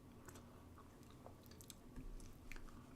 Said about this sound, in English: Y'all are going to hear me crunching, but I got some chips and dip